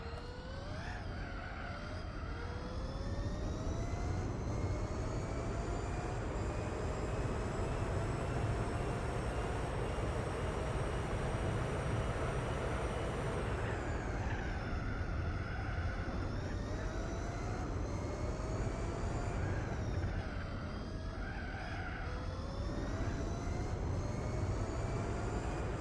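A race car engine at full throttle in the video game Gran Turismo 4 howls loud and continuous, its pitch climbing and dropping with gear changes, with no talking over it.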